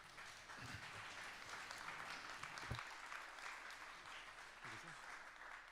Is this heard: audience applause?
yes